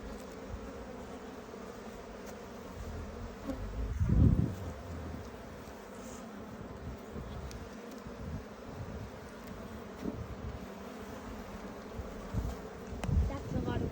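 Honey bees buzz in a steady, faint hum during a hive inspection, with occasional louder passes close by and soft rustling underneath.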